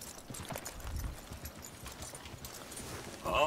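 Horse hooves clip-clop in the video game Red Dead Redemption 2, a quiet, fairly steady run of soft hoofbeats with faint ambient game sound.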